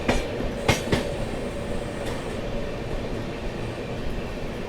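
The Lucknow Tejas Express overtakes the Aala Hazrat Express, heard from aboard as a loud, steady rumble with a few sharp clickety-clack wheel beats early on.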